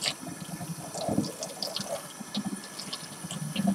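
Tap water runs steadily over a lace closure being washed in a sink, a continuous close splashing stream with soft shifting spatter throughout.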